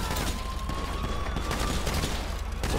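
Dense, rapid bursts of gunfire in the video game GTA 5 during a heist fill the clip, continuous and loud with layered shots and a faint electronic tone beneath.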